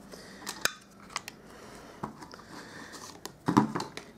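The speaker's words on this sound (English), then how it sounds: "we're going to use a 1 3/8 inch scallop circle punch, and we're just going to cut out a scallop" Paper being cut with a 1 3/8 inch scallop circle punch for a small Easter bunny pizza box craft: a few sharp, quiet clicks and snips spread out, with a louder crunching punch near the end.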